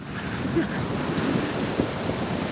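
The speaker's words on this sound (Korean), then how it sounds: "또 많이 밀려온다." Ocean surf rolling in at a beach, a broad steady wash of breaking waves with wind rumble on the microphone, continuous and fairly close.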